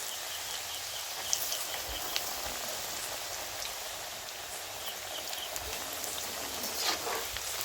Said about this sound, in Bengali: একটু একটু হালকা আঁচে ভেজে নেবেন